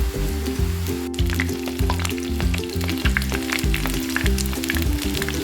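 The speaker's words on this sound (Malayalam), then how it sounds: "ഇതൊന്ന് ഒരു ഭാഗം ഫ്രൈ ആകുമ്പോൾ നമുക്ക് ഓരോന്നായിട്ട് തിരിച്ചിട്ട് കൊടുക്കാം" Egg chilli pieces sizzle and fry steadily in a pan of hot oil, a loud continuous crackle with bubbling pops and no voices.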